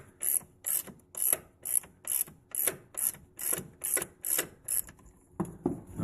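A ratchet clicks in a steady run of about eleven quick bursts, each a close, crisp pawl rattle, while a very tight bolt is loosened on a damaged Subaru WRX, ending with a couple of slower final clicks.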